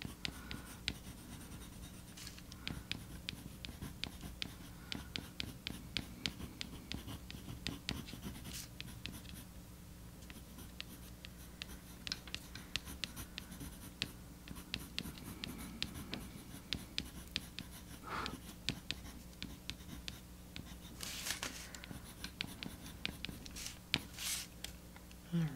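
A colour pencil burnishes a drawing on paper, giving quiet, close, rapid scratchy strokes in a steady back-and-forth rhythm that keeps going for the whole stretch with no talking.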